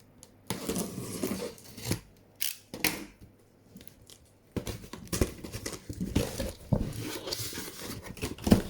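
Scissors cut open shipping packages of toys, with bursts of snipping, crinkling paper and rustling plastic close by, broken by short pauses and no talking.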